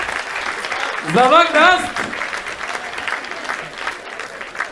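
Audience applause at a Hindi comedy poetry show in Haryana, a steady broad clapping that swells briefly while someone speaks over it with a short exclamation.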